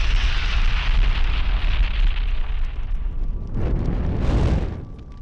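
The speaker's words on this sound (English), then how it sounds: "That was a much bigger explosion than I was expecting." A large explosive charge blasts apart a steel cross structure on Salisbury Plain, a loud sustained roar rumbling for several seconds with a second heavy burst near the end before fading, no voices.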